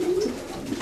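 A racing pigeon, a grey-white bird from a German loft, gives a short low coo, close and alone with no talk over it.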